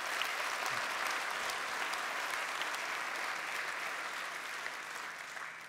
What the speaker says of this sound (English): Now you can clap for that one